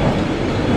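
Loud, steady rumble of an electric commuter train riding along, a dense continuous roar from inside the carriage with no speech.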